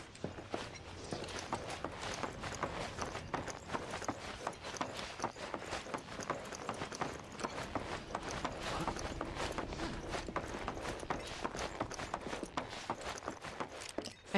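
Footsteps in the Final Fantasy VII Rebirth video game, a steady run of quick, faint clopping steps in a small town, continuing for the whole stretch under soft background ambience.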